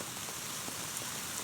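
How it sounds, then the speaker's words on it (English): Freezing rain falls on a tent in a steady, close hiss of pattering drops along the Pacific Crest Trail between Wrightwood and Agua Dulce, with no one speaking. "It's ice raining."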